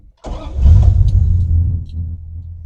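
A 1974 Plymouth Scamp V8 with a freshly fitted four-barrel carburetor, HP manifolds, 2.5-inch exhaust and Flowmaster Super 10 mufflers kicks in abruptly, then holds a loud, deep, steady idle rumble up close with slight rev swells.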